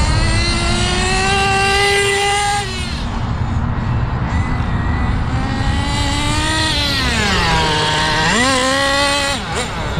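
The small nitro engine of an HPI WR8 rally RC car buzzes loud and close, its high-pitched whine rising and falling as the throttle is worked, dipping and then revving back up near the end, with no one talking.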